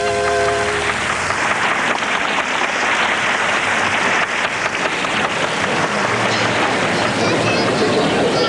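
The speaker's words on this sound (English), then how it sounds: "Let's have a big round of applause for Woo Min." Sustained, loud round of applause from an audience at an acrobatic stage show, dense and steady from start to finish, with crowd murmur beneath.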